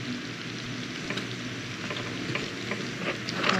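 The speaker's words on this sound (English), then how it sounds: "The other one's already cooked and I'm cooking this one right here." Spaghetti cooking in a pan sizzles and fries steadily with a continuous crackling hiss, close and fairly loud, with faint stirring clicks and no voices.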